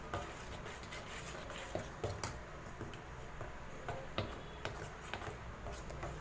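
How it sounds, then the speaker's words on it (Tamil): Jaggery syrup being stirred into paniyaram batter in a bowl, giving soft repeated scraping and light ticking strokes of a spoon against the vessel at a close, quiet level, with no talk. "ஆட் பண்ணிவிட்டு நல்லா கட்டி இல்லாமல் கிளறி விடுங்க"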